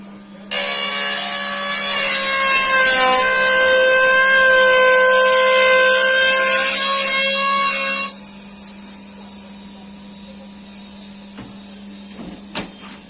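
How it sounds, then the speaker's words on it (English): A semi-automatic glue binding machine with a glue roller and milling cutter runs with a loud, steady mechanical whine for about seven seconds, then drops to a low hum with a few faint clicks near the end. "The glue roller is moving. Once we move the pages from left to right, the milling cutter will automatically work."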